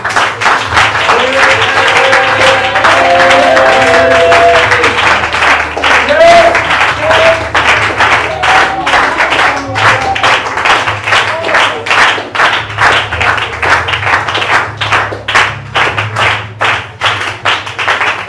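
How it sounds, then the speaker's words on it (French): Church congregation applauding and acclaiming, with loud shouting and voices over the clapping at first, then a rapid, rhythmic clapping that grows more distinct and pulsing toward the end. "peut honorer le Seigneur par ses acclamations?"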